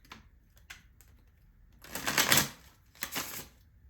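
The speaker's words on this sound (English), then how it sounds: "I'm also going to pull a couple oracle cards for you." Oracle cards shuffled and pulled for a reading: two bursts of quick, crisp riffling and slapping cards, close and fairly loud, after a few faint taps, with no talking.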